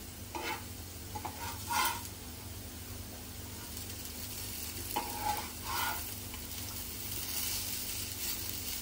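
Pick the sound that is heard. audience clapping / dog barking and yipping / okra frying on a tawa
okra frying on a tawa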